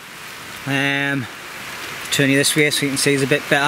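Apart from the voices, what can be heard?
rain falling at a riverside campsite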